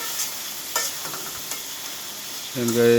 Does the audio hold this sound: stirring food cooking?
yes